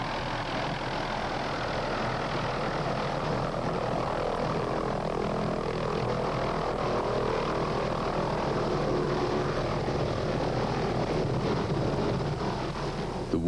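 A Hughes 500 medical evacuation helicopter arrives through early morning mist in Nicaragua, a steady droning rotor and turbine noise that stays loud and constant throughout, with no voices.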